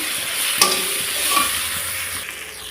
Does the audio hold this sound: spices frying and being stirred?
yes